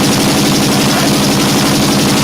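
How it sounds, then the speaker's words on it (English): Dense, continuous gunfire rattles without a break, loud and close, like a sustained machine-gun fusillade on a battlefield. "We're in the middle of Iraq, just a bunch of gunfire."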